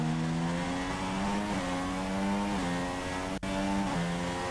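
A Formula 1 car engine in the F1 2016 racing game screams at high revs close by, rising and dipping in pitch with gear changes, with one brief cut near the end.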